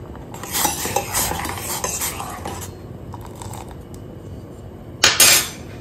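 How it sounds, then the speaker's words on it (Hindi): A spoon scrapes and clinks against a metal pot while stirring tea with cardamom, in close, busy clattering strokes, then a sharp louder clink near the end. "मैंने इसमें रख दिया है इलायची और अब इसको थोड़ा सा मिक्स करेंगे।"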